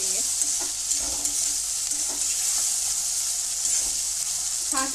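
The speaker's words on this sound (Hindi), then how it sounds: "अब इसे हम अच्छे से मिक्स करेंगे" Taro pieces fry in a pan with mustard paste, a steady sizzle layered with repeated scraping and clinking as a spoon stirs the mixture through the oil.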